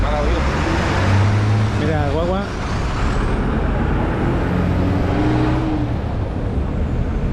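A city bus passes along a Havana street, its engine rumbling loud and close with an air-brake hiss and surrounding traffic noise, while people talk nearby.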